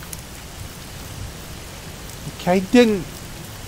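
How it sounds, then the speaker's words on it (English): Steady hiss of rain falling in a Garry's Mod game level, a continuous wash of noise throughout with a brief spoken word near the end. "Here's some rain."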